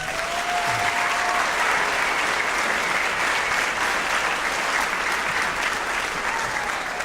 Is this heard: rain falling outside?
no